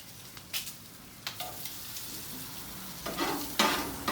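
Bacon fries on a flat griddle with a steady crackling sizzle, broken by a few scraping spatula strokes and a louder burst of spitting fat toward the end, close and without speech.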